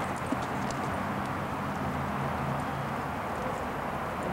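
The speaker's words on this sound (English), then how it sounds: "he's cantering pretty nicely there" A horse named Hawk canters under a rider, its hoofbeats a muffled, rolling rhythm set against steady outdoor wind noise, somewhat distant and without talk.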